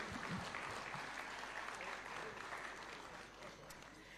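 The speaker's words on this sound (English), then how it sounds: "A round of applause as they pick these awards kindly." Audience applause at an awards ceremony, a steady wash of clapping that gradually fades, with some speech faintly underneath, heard at low volume.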